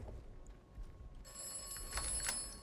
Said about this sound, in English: it's the voice in my head, which includes a telephone bell ringing